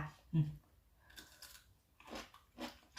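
Crunchy homemade pickled cucumbers with garlic and chili being bitten and chewed close up, a sharp crunch followed by a few quieter chewing bursts, with soft breaths between.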